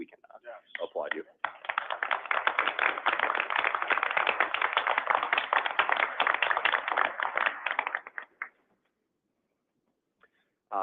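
Hospital board meeting attendees applaud award recipients with a dense burst of clapping lasting about seven seconds, moderately loud, then falling silent.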